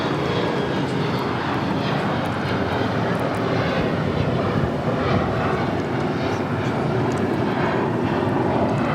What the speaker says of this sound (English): United Airlines Flight 1909 heading to Vancouver, 737 MAX 9 heading down 25 right